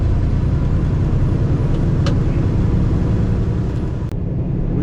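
Semi truck pulling a very light trailer, a steady loud road rumble and engine drone throughout, with a couple of brief clicks and a short dip near the end.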